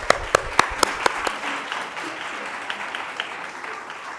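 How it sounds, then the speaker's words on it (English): Applause at a school debate competition opens with a few sharp, distinct claps near the front, then thins into a softer, scattered patter from the audience. "Round of applause, please."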